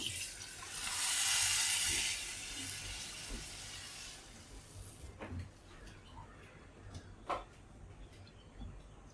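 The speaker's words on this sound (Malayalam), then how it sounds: "തൈര് ഒഴിച്ചു കൊടുക്കാം" Yogurt poured into a hot clay pot curry, a soft liquid rush and hiss for a few seconds, then quieter scattered clinks and taps.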